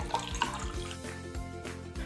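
Water splashes steadily into a kadai set on a gas stove, being filled to cook rasgulla balls for ras malai, with soft background music running underneath.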